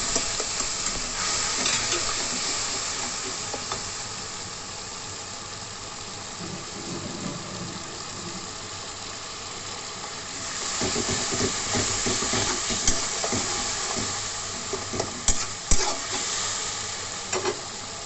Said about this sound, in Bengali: এবার ভালো করে একটু কষে দিতে হবে।